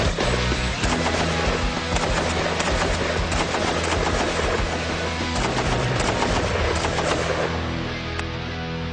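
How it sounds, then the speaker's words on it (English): A Bren gun fired from the hip in assault mode, loud continuous bursts of automatic fire echoing outdoors with overlapping cracks and reverberation. "The Bren gun can be fired in the assault mode from the hip"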